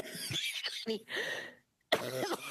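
A person who is unwell coughs a few times between bits of speech during a parliamentary committee meeting, harsh bursts close to the microphone, followed by a brief silence.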